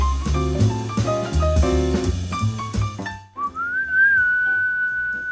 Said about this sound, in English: the little whistle at the beginning is like stuck in my head